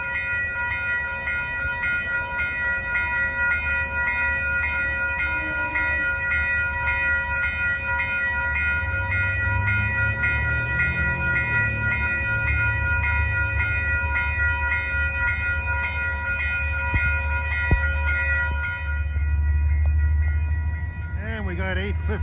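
An Amtrak passenger train rolls along Hudson line rails with a steady low rumble and wheel noise, tonal horn-like hums sustained throughout and a swell of nearby clatter toward the end.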